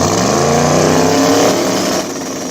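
A race car engine roars loud and near, with a rising, revving drone that holds steady and then dips slightly toward the end, with no talk over it.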